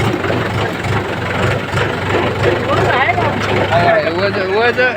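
A tractor engine idles with a steady low rumble while people talk loudly over it close by.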